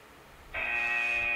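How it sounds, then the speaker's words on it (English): A steady electronic buzzer tone from the LEGO The Hobbit video game on the PS Vita, sounding as the timer runs out; it starts abruptly and holds at constant loudness to the end over quieter game background. "There goes the timer."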